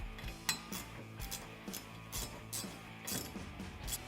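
A nut being fully tightened on a Can-Am Maverick Sport high-clearance rear A-arm: quiet, irregular metallic clicks and ratcheting taps of a hand tool, close up, with no voices.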